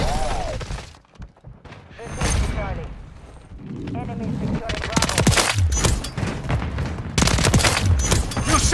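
Gunfire in the multiplayer video game Call of Duty: Modern Warfare III, loud bursts of rapid automatic fire with sharp cracks and impacts that build into dense volleys, mixed with voices talking over the action.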